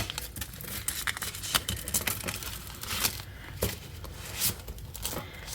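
A tarot card deck is shuffled by hand, giving rapid papery riffles and crisp card snaps in irregular bursts, close and clear with no talking.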